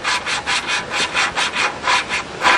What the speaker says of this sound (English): So that's how you lap and seat a valve with full compression.